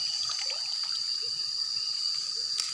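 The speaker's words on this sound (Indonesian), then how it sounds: "Kita rendam dulu bibit cabainya seperti ini kawan, lalu kita tiriskan." Water trickling and dribbling as chili seedlings soak and drain, a faint continuous wet patter with a steady high hiss behind it, no voices.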